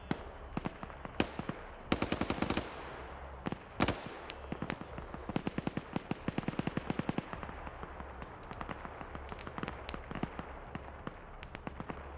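SVD rifle gunfire in a shooter video game: sharp, distant-sounding shots and bursts of rapid fire crackle irregularly over a low background hum, with several tight clusters of cracks.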